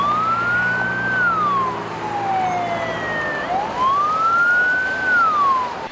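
A fire engine siren wails in a city street, rising and falling in long sweeping cycles, loud and close over steady traffic rumble, with no voices.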